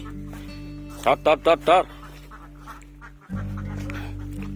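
Four quick, loud quacks from a duck being chased, in a row, then a voice calls out briefly over a steady low hum.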